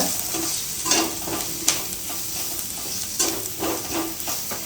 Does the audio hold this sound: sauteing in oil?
yes